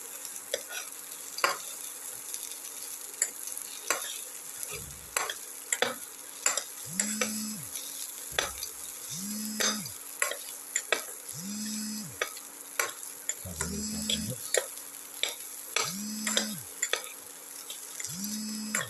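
Ingredients for a ginger tomato rice soup casserole cook in hot oil. Continuous sizzling runs under repeated scraping and stirring strokes, with a regular rhythm of low thumps from the pan roughly every two seconds.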